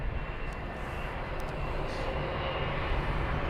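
A Boeing 787-9 Dreamliner in toothpaste livery pushes back at Heathrow, heard as a steady, broad jet roar that holds level and continuous with no talk over it.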